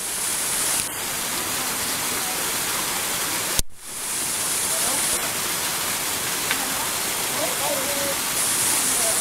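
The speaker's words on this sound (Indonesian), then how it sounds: "sekarang kita posisi berada di Air Terjun Cinta, yaitu bisa dilihat air terjunnya yang itu sungguh unik semburannya" The Air Terjun Cinta waterfall at the Kaligua agrotourism area in Brebes, heard as a steady, broad rush of falling water, close and continuous, with a brief break partway through.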